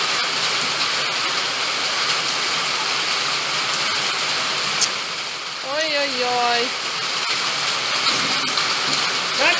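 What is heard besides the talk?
rain falling while the sun shines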